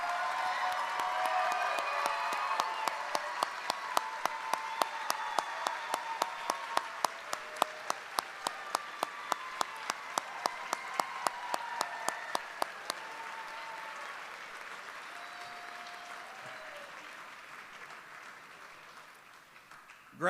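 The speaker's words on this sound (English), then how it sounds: "Please take a moment now to applaud and thank them for their love and support." A graduation audience applauds family and friends, a dense wash of clapping from a large crowd that holds steady for several seconds, then slowly thins and fades toward silence.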